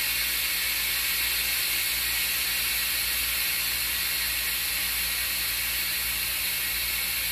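Steam hisses out of a pressure cooker of beans, a steady, bright, continuous hiss held at a constant level throughout.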